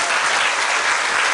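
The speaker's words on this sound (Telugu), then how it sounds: "గట్టిగా చప్పట్లు కొట్టి దేవుని స్తుతిద్దాం." A church congregation clapping loudly in praise, a dense, continuous burst of applause filling the room without talk.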